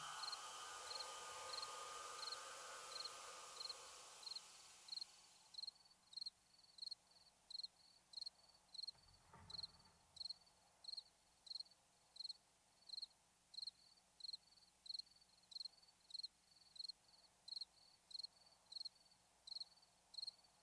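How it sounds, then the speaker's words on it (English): Crickets in the 7 Days to Die video game chirp in a steady, regular pulse of short high notes, faint and alone, after a fading wash of noise and one brief dull thump. "Trying to keep in rhythm with the chirp of the crickets."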